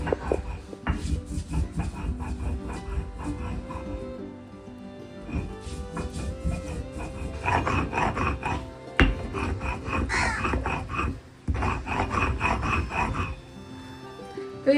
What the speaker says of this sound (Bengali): রাঁধুনিটা যেহেতু অল্প তো এটা আমি শিলনোড়ায় বেটে নেব